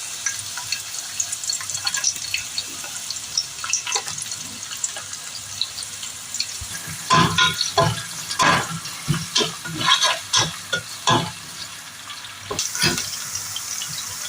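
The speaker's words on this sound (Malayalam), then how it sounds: "ഇനി നമ്മൾ ബാക്കിയുള്ള എണ്ണയും നെയ്യും ചേർത്ത മിക്സിലോട്ട് കുറച്ച് സവാള ഇട്ട് വഴറ്റാം." Chopped onions sautéing in a mix of oil and ghee for a Kerala-style chicken biryani, with steady sizzling and repeated stirring scrapes that grow louder in the second half, close and without talk.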